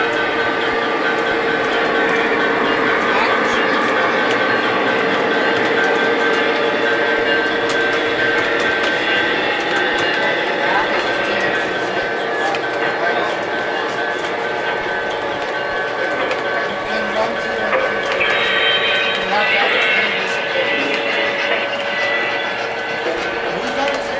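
An O gauge model train runs steadily along its track at a Run for Fun event, giving a continuous motor hum and rolling rumble throughout, with people talking over it.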